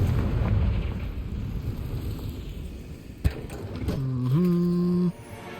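A Confringo fire spell blasts in the Hogwarts Legacy video game, a single sharp explosive burst over a steady rumbling game ambience, followed by rising tonal magical chimes.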